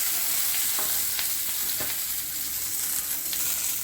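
Chopped vegetables sizzle and fry steadily in a hot pan of oil after the gas is switched off for a sambhar and raw banana curry, a dense continuous crackle close up with a few faint stirring clinks.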